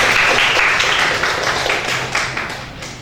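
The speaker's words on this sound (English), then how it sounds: "Let's give a round of applause." Audience applause follows a presentation at an academic talk, a dense burst of many hands clapping that starts strong and slowly thins over a few seconds.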